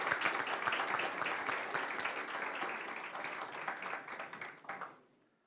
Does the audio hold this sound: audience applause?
yes